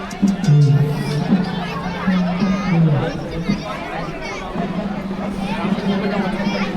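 Dense crowd chatter fills a busy food lane at an agricultural fair, many voices overlapping into a steady, close babble with occasional louder nearby talk.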